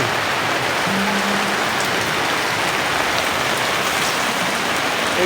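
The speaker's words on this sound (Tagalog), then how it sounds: "Naliligo sila sa ulan." Heavy, steady rain pours down continuously during the rainy season in Angeles City, Pampanga, a dense close hiss of drops on surfaces with a faint brief tone early on.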